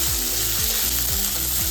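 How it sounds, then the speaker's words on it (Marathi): Chopped onions sizzling steadily in a hot pan while being stirred for paneer lababdar, a loud, close, continuous frying hiss with faint rhythmic scraping underneath. "तर बघा, या पद्धतीने आपल्याला सगळा कांदा आहे ना भावनो मिक्स करून घ्यायचा आहे."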